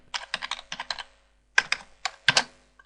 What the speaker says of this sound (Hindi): पासवर्ड हमने ऐड किया, इसको दोबारा से हमने यहाँ टाइप करना है।